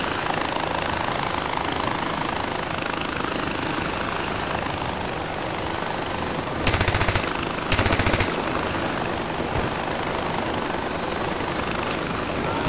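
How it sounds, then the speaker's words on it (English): Gunfight in the video game Far Cry 4, a loud steady engine roar filling the scene while two short bursts of rapid automatic gunfire cut through near the middle. "Oh, there's a gunfight going on."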